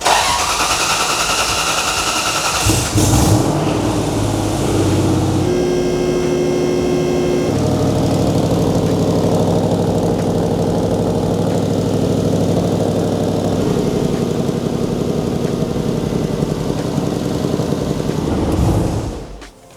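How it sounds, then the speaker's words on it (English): A supercharged V8 engine in a drift truck idles loudly and steadily with a rough, ticking exhaust note from a leaking flex pipe, after a brief crank-up at the start, then cuts off at the end. "find this exhaust leak, because I don't really know where it is, but it sounds massive"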